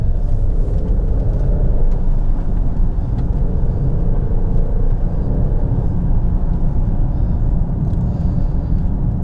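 An Alfa Romeo Stelvio Quadrifoglio driving on Cotswolds roads, heard from inside as a loud, constant engine and road rumble with steady tyre noise and no talking.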